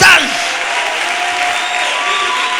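A church congregation applauds and cheers loudly, a dense steady wash of clapping and voices that holds evenly throughout.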